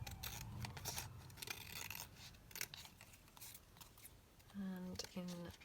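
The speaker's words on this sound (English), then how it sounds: "So I'm just going to trim this down." Scissors trim a collage masterboard of paper ephemera up close, with scattered crisp snips and rustles, then two clear ringing cuts near the end, while a voice talks quietly.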